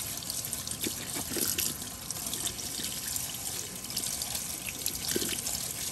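Water streams steadily from a kitchen-style tap into a sink as the temperature is turned hotter, a soft continuous rush with faint splashing and no talk.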